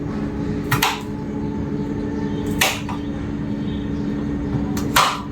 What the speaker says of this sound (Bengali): রসুনটাকে একটু ছোট করে কাটি। এই যে কেটে ফেললাম।